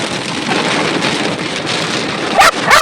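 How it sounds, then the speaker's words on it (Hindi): Heavy monsoon rain pours down steadily near the Gujarat–Rajasthan border, a dense, loud hiss of drops on surfaces filling the whole stretch, with two brief sharper splashes or gusts near the end. "बस तो यहाँ पर देखिए झमाझम बारिश चालू हो गई है।"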